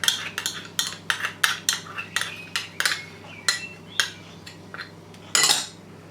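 A spoon clinks and scrapes repeatedly against a bowl while dry-roasted crushed coconut, lemon juice and cream are mixed for Sufiani biryani, in a quick irregular rhythm of sharp taps, close and clear, without voices.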